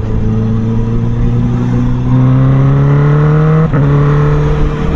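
Steady, loud engine drone from a Honda CB650R motorcycle while riding, its pitch climbing smoothly as it accelerates, briefly dipping at a gear change, then holding on.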